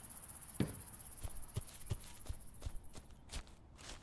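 Footsteps in the We Harvest Shadows farming video game land in a slow, evenly spaced series of soft thuds, about ten steps over a faint ambient hiss, with no talk over them.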